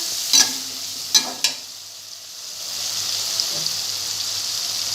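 Bottle gourd (lauki) frying in a pan with salt and whole green chillies gives a steady, moderate sizzle, with a few sharp scraping knocks from stirring near the start.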